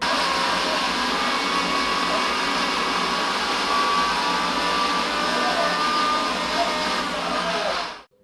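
A mixer grinder grinding chutney whirs loudly and steadily for about eight seconds, a dense high-pitched motor roar that cuts off abruptly at the end.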